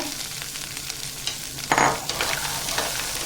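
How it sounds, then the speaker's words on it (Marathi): Half a kilo of fresh green peas frying in a spoonful of hot oil in a pan, a continuous close sizzle with a louder crackling burst partway through as they are stirred. "त्यात आपण एक चमचा एवढं तेल टाकून घेऊया तेल गरम झालं ना का इथे मी अर्धा किलो फ्रेश मटार घेतलेले आहेत ते टाकून घेऊया"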